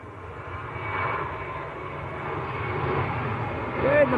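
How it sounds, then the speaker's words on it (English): Etihad Boeing 787 Dreamliner taxiing out for departure at Manchester Airport, a steady distant jet engine rumble and whine that builds gradually, with people talking over it. "here comes the Etihad Dreamliner as well"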